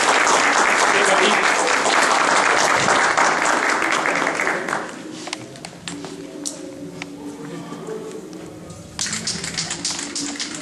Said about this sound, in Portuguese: quero que todo mundo aplaudam a presença para abrir o terçarau de Thalia!